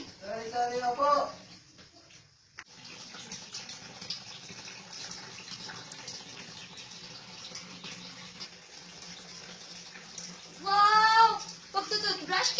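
A tap runs continuously while someone brushes their teeth, a steady gush of water. Voices talk over it at the start and again near the end.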